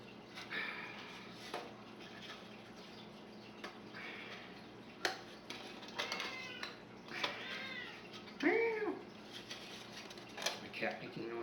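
A house cat meows indoors during an unboxing: several moderate, rising and falling calls sit over steady room hiss, with one clear, drawn-out meow near the end and faint voice in the background.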